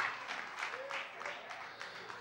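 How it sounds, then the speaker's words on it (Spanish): Congregation in a Spanish-speaking church claps in brief bursts, moderate and somewhat uneven, with voices mixed into the applause. "Un aplauso a Dios."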